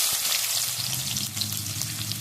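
Chopped onions drop into hot oil for an egg gravy and fry with a loud, dense, continuous crackling hiss that holds steady throughout, with no voices.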